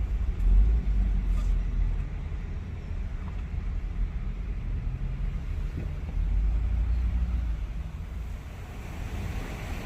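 Cars entering the Orlando Universal parking lot produce a continuous low rumble of passing vehicle traffic, fairly loud and steady with slight swells, heard without speech.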